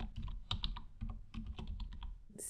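Typing on a computer keyboard while entering a new list in Microsoft Word: a steady run of close, crisp key clicks, with no talking.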